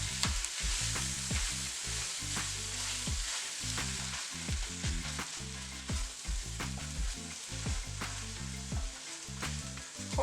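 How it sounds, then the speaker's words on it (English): Corned beef breaking up and frying in a pan, a steady close sizzle with scraping and stirring knocks as the meat is pushed around, no voices. "Now let's add the corned beef. We're going to break up the corned beef."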